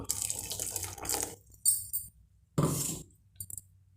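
Short splashes of rinse water poured from a mixer jar into a pan of chayote kootu, two brief gushes separated by quiet, with a few small drips at the end.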